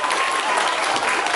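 Festival audience in Łapanów, Poland, giving a dense, steady round of applause, loud and close throughout with no pauses.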